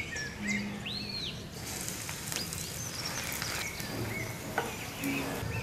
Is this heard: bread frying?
yes